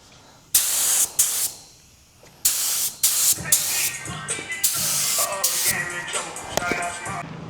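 Spray gun test-spraying candy paint in short hissing bursts, a few separate blasts followed by a longer stretch of steady spraying, loud and close with music faintly underneath.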